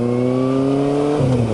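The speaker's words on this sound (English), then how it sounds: "Sorry, had to rev that up a little bit." A motorcycle engine revved up close by, a loud steady drone that rises in pitch and then dips back as the throttle eases.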